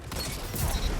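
Rapid gunfire from Luna's Howl, a hand cannon in a first-person shooter video game, crackling as a dense continuous burst with heavy low-end thumps across the whole second, no voices over it.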